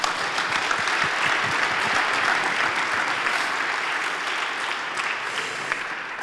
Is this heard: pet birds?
no